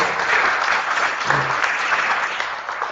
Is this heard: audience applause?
yes